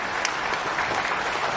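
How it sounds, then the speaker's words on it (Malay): Applause for the FELCRA management at a corporate briefing in Malaysia, a brief burst of dense, steady clapping from an indoor audience. "Kita berikan tepukan bergemuruh kepada pengurusan"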